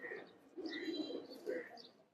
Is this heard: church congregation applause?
no